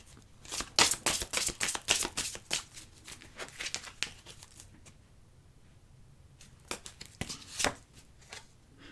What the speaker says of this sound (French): On va couper, on va juste prendre une carte du Yagel Didier.